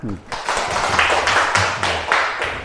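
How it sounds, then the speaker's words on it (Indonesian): An elementary classroom breaks into applause, with a burst of fairly steady, close-sounding hand claps under a voice that talks over them. "Kita tepuk tangan."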